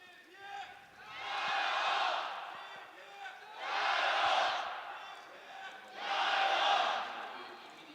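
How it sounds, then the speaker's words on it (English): Three swelling waves of esports crowd cheering and roaring in an arena, each rising and fading, with quieter murmuring between them. "the crowd getting behind EP."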